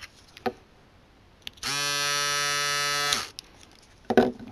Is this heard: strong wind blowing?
no